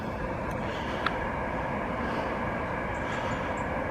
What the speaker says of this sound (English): And then there's a big goods train down here.